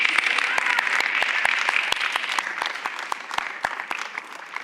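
Audience applause fills a panel discussion hall on women's economic power, dense steady clapping from many hands that slowly thins and softens toward the end.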